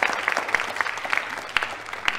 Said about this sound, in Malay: Bagi tepukan untuk brother kita.